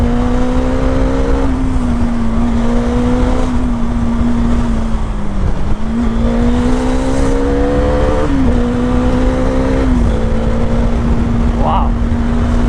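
Onboard a Bajaj Dominar 400 naked motorcycle ridden hard on an expressway, the engine drones steadily with rising and falling pitch as it revs through gears, heavy wind rush throughout and a rider's voice over it.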